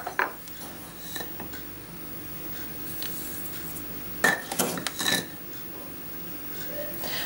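Soft scraping and clinking of a utensil against a plate, stirring cottage cheese with egg in a few short bursts over a quiet background.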